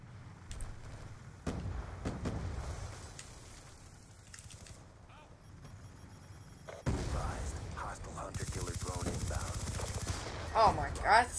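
Rapid submachine-gun bursts from an MP7 in Call of Duty on the Nuketown map, loud and continuous in stretches, with a sharper burst near the end and game effects mixed in.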